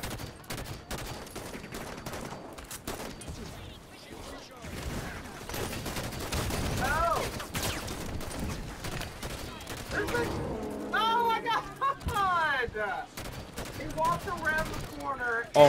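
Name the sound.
gunfire in Halo video game firefight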